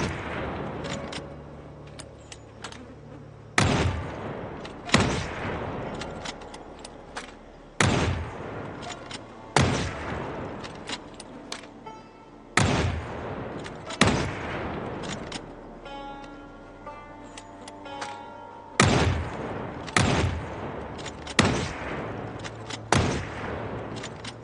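Repeated gunshots from the game Project Zomboid, sharp loud cracks fired in uneven bursts at a shooting gallery, each followed by a short decaying echo, with no talk.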